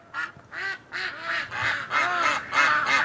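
Ducks outdoors in a snowstorm give a run of loud, nasal quacks in close succession, near and clear with little else around.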